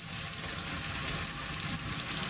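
Tomatoes sauté in a pan for a Filipino squid dish, giving a dense, steady sizzle with soft stirring underneath, close and continuous without any talking.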